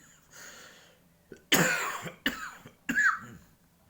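Three sharp, loud coughs in quick succession, close by, after a brief stretch of faint murmuring.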